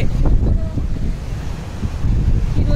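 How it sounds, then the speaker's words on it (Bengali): Strong wind buffets the microphone at Digha beach in a constant low roar, with surf rushing behind it, loud and close throughout. "এত হাওয়া দিচ্ছে, সবকিছু উড়ে যাচ্ছে"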